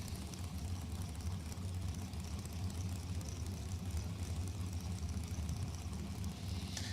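Drag racing cars idle near the starting line at New England Dragway, a continuous low, rumbling engine drone that stays even and fairly distant throughout.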